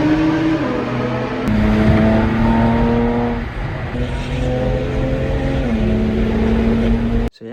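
The exhaust of a BMW 335is with an N54 engine drones loud and close while driving, its pitch climbing and falling through gear changes, then cutting off abruptly at the end.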